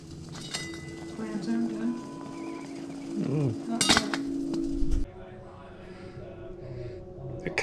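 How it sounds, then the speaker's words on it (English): Clams shifted out of a pot into a bowl over a fire, scattered clinks and clacks of shells against metal with one sharp louder knock, while a voice talks and faint background noise continues. "Coming out of the pot into the bowl."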